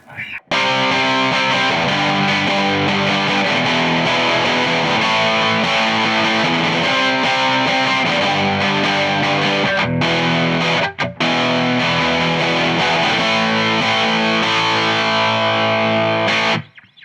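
Electric guitar played through a Limelight pedal with the Space Echo off, a thick, distorted sustained tone ringing continuously, with one brief cut midway before the chords resume and hold to the end.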